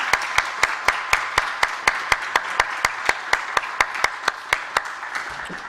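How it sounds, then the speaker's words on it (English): Audience applause for the competitors at a university Three Minute Thesis competition: steady, sustained clapping from a crowd, with individual claps standing out sharply in a regular rhythm and no talk over it. "Give another big round of applause to all our competitors."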